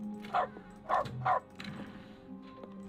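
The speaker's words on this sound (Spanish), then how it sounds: "cada vez que pique sonará un perro" Dog barking sound effect from the video game The Stanley Parable, three short bright woofs in quick succession followed by a softer trailing whine over a faint low game hum.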